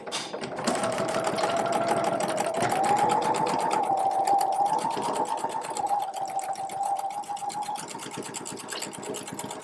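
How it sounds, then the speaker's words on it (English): A sewing machine stitches a straight seam across a fabric drawstring bag, back-tacking at each end; a steady, close, continuous whirring motor hum with rapid needle clatter runs for the whole stretch, with no talking. "I sew straight across. I back tack beginning and end. And then I sew a second seam right across the first."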